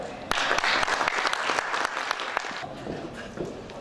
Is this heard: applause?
yes